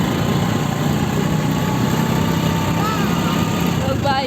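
A motorbike engine runs steadily throughout as people ride home, a close, continuous hum with voices faintly over it.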